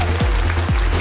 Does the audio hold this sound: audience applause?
yes